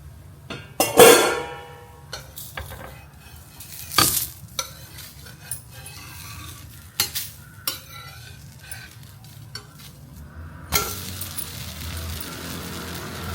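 A soft dosa cooks on a hot pan, with a low continuous sizzle under scattered loud scrapes, knocks and clinks of a spatula and utensils, plus a longer stretch of frying noise near the end, no voices.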